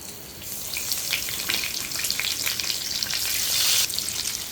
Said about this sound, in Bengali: এখন আমি ডিমগুলো একটা একটা করে ভাজতে দিব